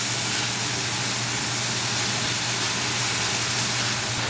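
Onion, ginger and garlic cooking in oil in a pan for a chicken curry, a steady loud sizzle and hiss with no break, close up and alone.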